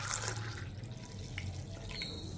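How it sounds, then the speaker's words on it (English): South Indian filter coffee poured into a metal dabara gives a brief, soft liquid splash and trickle, faint and close. "I mix it up by pouring it into the dabara."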